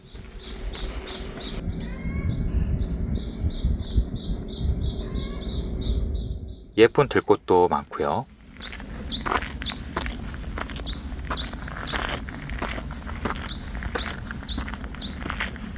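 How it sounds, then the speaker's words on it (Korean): Loud repeated chirping birdsong rings out in dense island forest on a trail up to a lighthouse, over soft footsteps and outdoor rustle; a person speaks briefly midway, then the birds carry on calling. "등대로 올라가는 길은 숲도 울창하고 새소리도 우렁찼습니다."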